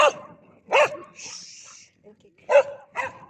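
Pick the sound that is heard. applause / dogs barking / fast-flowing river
dogs barking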